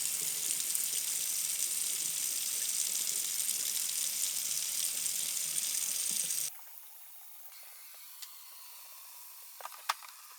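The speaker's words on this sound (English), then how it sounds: "we're going to fill our water cooler up with water that's 110 degrees" Tap water at 110 degrees runs steadily into a water cooler for yogurt jars, a loud continuous hiss and gush for several seconds that then stops abruptly, leaving quiet with a few faint clicks.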